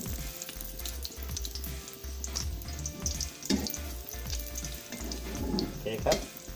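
An omelette with salty stir-fried pork frying and being flipped in a pan, a soft continuous sizzle with a few louder spatula scrapes and splashes, fairly faint and close.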